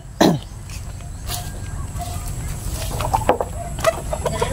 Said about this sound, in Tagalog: Ito yung manok ko.